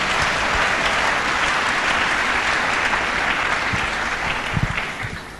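Congregation applauding inside a church, a steady, dense wash of clapping from many hands sustained throughout, swelling slightly with a few louder claps near the end.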